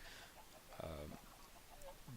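Chickens cluck softly in a Minecraft egg farm built around a cauldron, a short burst of clucks standing out faintly over a quiet game background.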